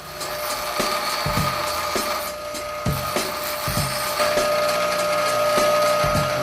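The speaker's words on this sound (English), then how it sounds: "Just going to grind it off" A grinder cuts off a rod tab on a Mustang throttle body, a steady high whine punctuated by repeated short bursts and knocks as the tool is pressed and eased against the metal.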